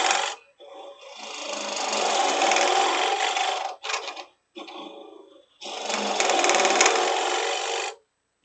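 A wood lathe spins while a wooden three-corner box is turned, giving a loud, steady whirring and cutting drone with brief breaks as the tool lifts off, then a sustained final pass.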